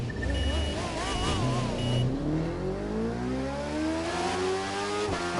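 Suzuki GSX-R1000R motorcycle engine in the racing game The Crew 2, revving steadily with rising pitch as it accelerates through the gears, loud and continuous under game music and effects.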